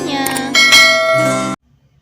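A bright bell-like ding with a clangy chime rings loudly for about a second and a half, then cuts off abruptly into near silence.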